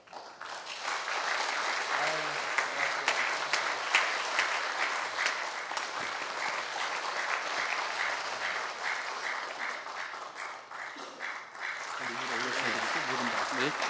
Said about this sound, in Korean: 힘찬 박수로 감사의 표시를 하도록 하겠습니다